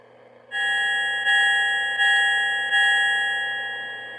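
An Amtrak F40PH model locomotive's sound-system bell rings out in four bright, evenly spaced clangs, each overlapping the last's ringing tail, loud and close with no talking.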